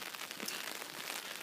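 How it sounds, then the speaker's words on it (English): Steady rain falls on an outdoor garden and patters on an umbrella overhead, a dense, even hiss that continues for the whole stretch with no voices. "Well, it's really raining now."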